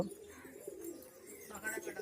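Giribaz pigeons, a Murshidabad breed of sale birds, coo in low repeated rolling notes close by, with faint background noise and no clear talk.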